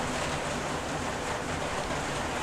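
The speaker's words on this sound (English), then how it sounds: "Yeah, I'm sorry for the rain." Rain drumming on a plastic roof, a steady dense hiss of patter with no breaks, fairly close and even throughout, no talk.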